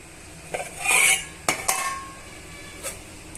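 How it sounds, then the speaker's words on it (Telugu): A spoon scrapes and clinks against a pan and bowl while banana masala curry is served into a bowl, a few sharp metallic taps and scraping strokes, close and fairly loud with no talking. "ఇప్పుడు మనం ఈ కర్రీని ఒక బౌల్లోకి సర్వ్ చేసేసుకోవాలి"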